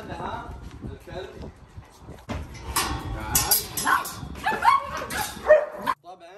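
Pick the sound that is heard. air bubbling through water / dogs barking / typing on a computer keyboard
dogs barking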